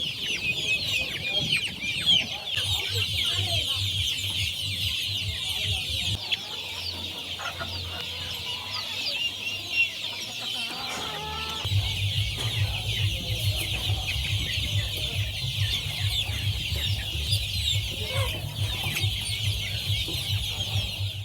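Native country chickens on an integrated farm cluck over a steady high-pitched insect-like drone, with a low engine-like hum in the background for much of the time and scattered bird calls throughout, no speech.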